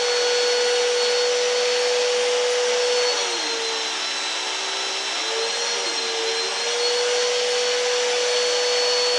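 Vacuum cleaner run by a young child on carpet, a loud, steady motor whine close by that dips and wavers briefly in pitch midway as the load changes, with no talk over it.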